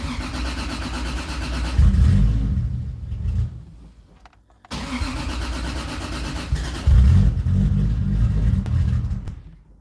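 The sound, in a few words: Toyota Supra engine starting and dying while cold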